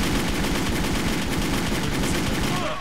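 Dense, continuous gunfire from the WolfTeam online shooter game rattles loudly and steadily throughout, with no pauses.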